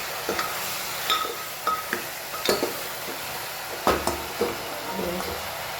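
Ingredients frying in hot oil in a pan while preparing a desi pizza, a steady sizzling hiss broken by the clinks and scrapes of a stirring utensil against the pan, with faint talk in the background.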